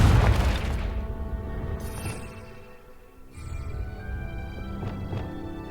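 In Hogwarts Legacy, a Confringo blasting spell goes off as a loud, heavy boom at the start and then rumbles down, followed by magical whooshing and fainter impacts, with no talking.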